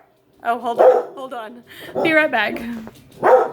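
Pet dogs bark loudly and excitedly indoors in a few close bursts, with a person speaking briefly over and between the barks.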